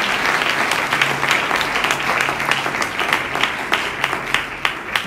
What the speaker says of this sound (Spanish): Denle un aplauso a la gloria de Él en esta noche.